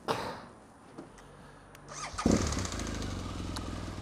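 A motorcycle is started on a cold winter day: a few faint clicks and shuffles, then the engine catches with a burst and settles into a steady, close idle rumble.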